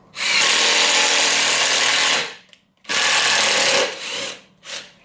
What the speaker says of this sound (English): This is the 18 volt Bosch, and here we go, same test.